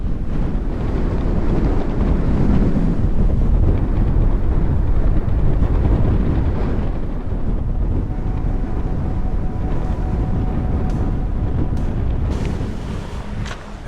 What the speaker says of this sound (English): Hello, wind. Stay up there.